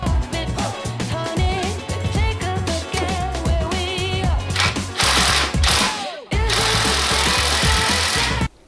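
Impact driver hammering on a seized, crusty suspension bolt of a Mazda RX-7 FC, a rapid rattling burst that runs in repeated stretches, loud and close, with a brief break before a final sustained run.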